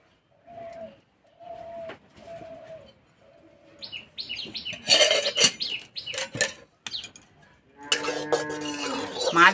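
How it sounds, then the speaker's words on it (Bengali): A wok is set down on a kitchen stove for mustard oil, making several clattering metallic knocks and scrapes. Pigeons coo and small birds chirp in the background, and a voice is heard briefly at the start. "কড়াই দেব সর্ষের তেল।"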